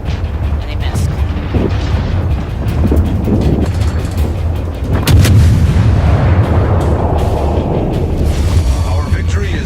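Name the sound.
naval gunfire in World of Warships video game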